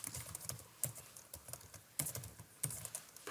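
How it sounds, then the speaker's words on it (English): Computer keyboard typing while entering fields into an SQL database script, a quick run of soft, close key clicks in irregular bursts. "So we type in here."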